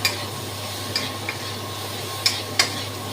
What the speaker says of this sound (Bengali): এখনো চড়া আছেই ভাজছি আমি, আজ একটুও কমাইনি, খুব ভালো করে ভাজবো